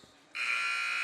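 Loud, steady electronic buzzer sounding at the end of a period in a high school basketball game, Providence Catholic versus Bolingbrook at a holiday tournament, starting abruptly after a quiet moment and holding without a break.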